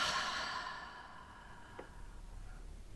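One long, soft, deep exhale during a guided breathing exercise, close and quiet, fading out gradually.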